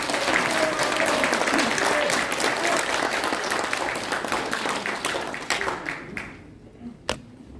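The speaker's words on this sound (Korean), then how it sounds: "나오실 때 우리 크게 박수해" Dense audience applause at a Korean political gathering of a national movement for liberal democracy, greeting a speaker coming to the stage; sustained, loud clapping thins out and fades near the end, followed by a single late clap.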